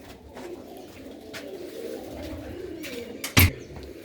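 Pigeons at a rooftop loft in Kartarpur murmur in low, steady cooing beneath a constant outdoor hiss, with a sharp sudden knock or clack near the end.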